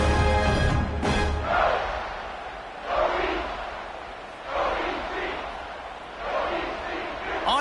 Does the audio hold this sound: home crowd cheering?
yes